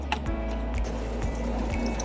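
Coolant water draining from a Toyota RAV4 radiator, a soft steady trickle with faint drips and periodic low knocks, quiet and close.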